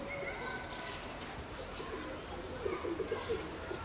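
Pigeons give soft cooing calls with a few chirps, heard at moderate distance outdoors amid steady background noise, with a louder burst of calls toward the end.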